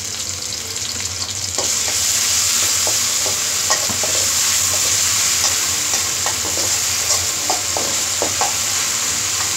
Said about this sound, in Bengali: রসুনটাকে একটু কষিয়ে নিচ্ছি।